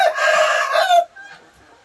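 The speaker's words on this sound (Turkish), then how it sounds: "aynı şekilde değerli Hint horozları arkadaşlar, tabiri caizse dövüş horozları" Indian fighting roosters crow and cluck nearby in a loud, drawn-out burst lasting about a second, followed by faint scattered clucks and farmyard sounds.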